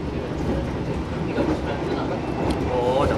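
The new Tegal Bahari passenger train running, a steady loud rumble with a faint rhythmic rail clatter, heard from inside the carriage, with a voice briefly audible over the noise.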